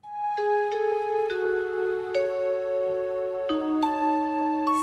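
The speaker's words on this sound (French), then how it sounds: "Ça, c'est le chant du camélia." Plant signals from a camellia are converted by computer into notes played on a simple digital piano, producing a slow sequence of sustained single tones that change pitch every second or so, clear and moderately loud with no talking.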